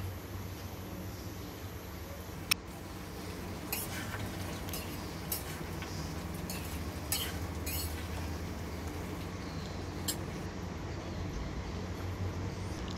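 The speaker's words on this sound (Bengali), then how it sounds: "সব কিছু ভালো করে নাড়াচাড়া করে নেব।" Chilli chicken is stirred in a pan with a utensil, a quiet, steady scraping with occasional sharp metallic clinks against the pan over a low kitchen background.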